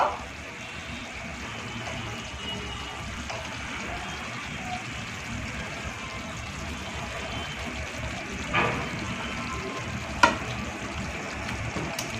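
Chicken pieces and potatoes frying together in a pan, a soft, steady sizzle throughout with a couple of sharp clicks near the end.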